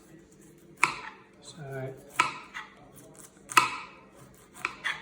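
A knife slices through cauliflower in four crisp, separate cuts, each a sharp crunchy chop against the board, with a brief spoken word between the first two cuts.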